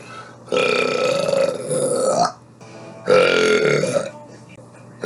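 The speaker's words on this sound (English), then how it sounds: "So enjoy the following burps." Two long, loud, drawn-out human burps in a row, each croaking on for over a second with a short pause between them.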